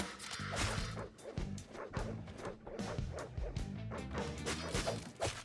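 A dog barks in the video game Deadbolt, a few quick yips and barks set among loud game music, crashes and thwacking hits throughout.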